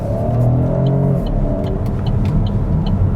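A 1.2-litre three-cylinder engine in an Opel Grandland pulls under acceleration on the road, giving a steady, fairly loud low rumble with a rising engine note and continuous road and cabin noise, and no voices.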